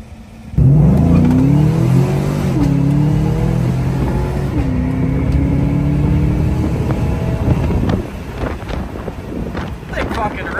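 A V8 car engine drones steadily with rising pitch sweeps as it revs and accelerates, wind buffeting the microphone throughout, with a few thumps near the end.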